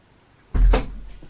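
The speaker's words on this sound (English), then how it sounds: "I just let one of the cats out." A single short thud as a door is opened to let a cat out, close and fairly loud, with a brief fading rattle afterwards in an otherwise quiet room.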